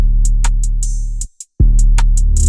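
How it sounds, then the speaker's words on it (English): A dark trap beat pattern built in FL Studio plays loud and up close: booming 808 bass under crisp, evenly spaced hi-hat and percussion hits, briefly cutting to silence before a swelling reverse 808 brings the pattern back in. "I also put in a reverse 808 here"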